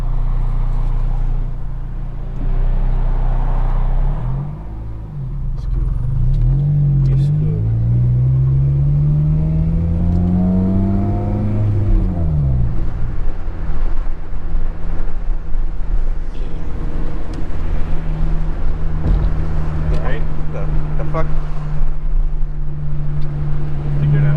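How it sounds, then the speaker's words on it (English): A loud, raspy straight-piped 2005 Honda Civic Si EP3 engine revs up and settles back, its deep exhaust drone rising and falling steadily. "This car sounds better than my car, even though it's obnoxious and straight pipe"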